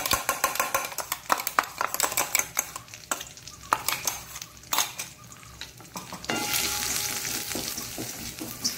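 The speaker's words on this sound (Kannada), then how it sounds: "ಈ ಒಂದು ಮಸಾಲೆಯನ್ನು ಇದಕ್ಕೆ ಹಾಕೊಂಡು ಚೂರು ಹುರಿಯೋಣ ಇದರಲ್ಲಿ" Masala with curry leaves fries in a pan for a Mangalore-style cucumber chutney and rasam, with repeated close clinks of a spoon against the pan, then a steady sizzle swelling toward the end.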